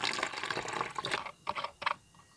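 Water poured into a container to make 400 ml more of homemade seawater: a continuous splashing, filling gurgle that then breaks into a few short separate pours, close and fairly quiet, with no talk.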